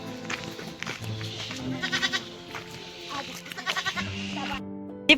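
Goats bleat repeatedly in a Himalayan village in Uttarakhand, several short wavering calls close by over a busy outdoor background.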